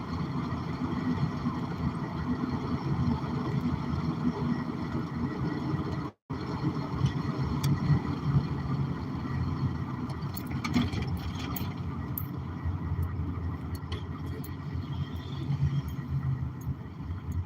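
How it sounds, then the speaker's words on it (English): A big truck pulls away down a road, its engine making a steady, broad low rumble that holds at the same level throughout, with no talk over it. "I'm going to give this big truck a second to get going down the road."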